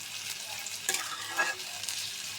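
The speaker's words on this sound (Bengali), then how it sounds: "পেঁয়াজটা নরম করে ভেজে নিচ্ছি।" Onions frying until soft in a pan give a soft, continuous sizzle, broken by a few light scrapes of stirring near the middle. Close by and fairly quiet, with no talking.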